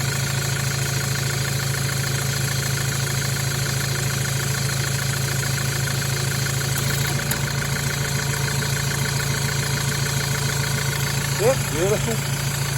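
A new Toyota Hilux engine idles steadily with the air conditioning switched on, a constant low drone with harmonic hum running throughout, while someone speaks briefly near the end.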